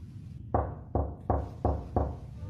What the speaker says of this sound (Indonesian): Tiba-tiba terdengar ketukan pintu dari ruang depan.